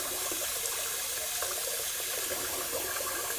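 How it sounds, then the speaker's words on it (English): Tap water runs steadily into a sink as a Maggards V-3 safety razor is rinsed under the stream. The rush of water is close and even, with no voices. "Just gonna rinse off the razor there."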